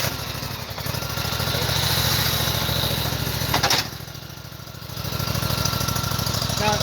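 Farm machine engine running after starting, a loud, close, rhythmic chugging idle with a brief dip in level partway through before it settles back to a steady putter.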